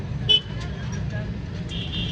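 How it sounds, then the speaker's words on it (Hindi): Evening rush-hour traffic jams a city road in Siliguri, West Bengal, with car horns tooting sharply near the start and holding a longer blast near the end over a constant low engine rumble, and voices faintly in the mix. "ये ट्रैफिक तो शाम को बहुत ट्रैफिक है"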